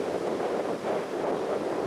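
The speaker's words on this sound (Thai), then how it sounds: "เพราะว่าคลื่นแรงดูครับ" Strong, rough ocean waves break at Laem Samila beach, a continuous broad roaring surf mixed with gusting wind noise, loud and steady with no voices.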